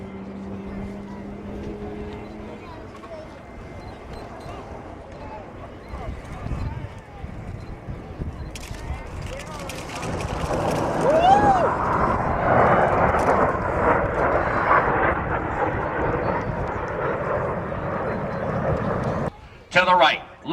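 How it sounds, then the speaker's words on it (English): US Navy Blue Angels jets at the 1997 MCAS El Toro air show build from a distant rumble to a loud roaring pass, with an announcer's amplified voice heard over the engines. "both aircraft are in the carrier landing configuration as they approach for a maneuver we call the Fortis"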